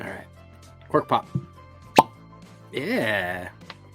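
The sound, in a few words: cork popping from bourbon bottle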